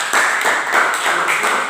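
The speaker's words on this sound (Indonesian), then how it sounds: "berikan aplaus dulu untuk adik Tira" A small classroom group applauds a student named Tira, with a short run of even, fairly loud hand claps close by.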